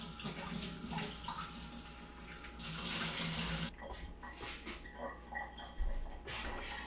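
Tap water runs steadily over frozen Atlantic salmon being washed in a sink, a close splashing flow that briefly changes tone as the stream shifts, with no talking.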